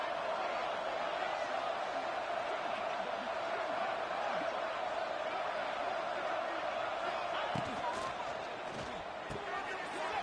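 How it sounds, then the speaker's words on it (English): Steady, loud stadium roar from the crowd in a College Football 26 game between Ohio State and Miami, a continuous wash of noise during a red zone defensive stand, with commentary voices running over it. "And here comes the noise. This crowd is trying to inspire this defense to make a big red zone stop."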